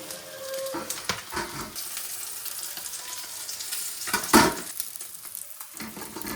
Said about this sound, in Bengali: বাকি যে কটা মাছ আছে সেগুলোকেও ভেজে নেব